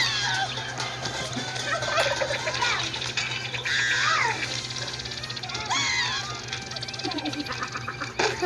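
Repeated clucking and squawking of chickens in the Roblox game Fling Things, several calls over busy background game noise with a voice talking.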